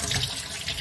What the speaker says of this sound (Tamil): தண்ணியில் வாஷ் பண்ணுறேன் பாருங்கள்.